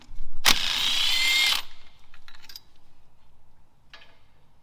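A power tool zips out a drive shaft bolt on a Ford Focus ST225 during a wheel bearing change: one loud, close whirring burst of about a second, followed by fainter mechanical rattles and clicks.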